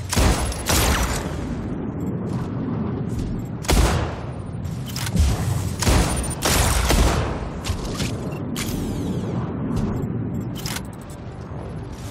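Mech weapons firing in the video game Mech Arena, bursts of sharp blasts and booms at irregular intervals over a continuous rumbling battle backdrop, fairly loud and close, with no talking.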